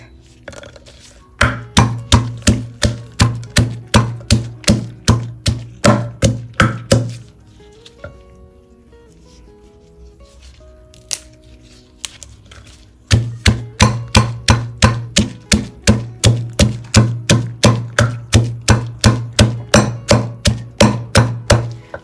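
Chili, garlic and long yard beans pounded in a mortar, heard as rapid, regular thudding strikes in two long bursts separated by a quieter stretch of scraping and light clinks.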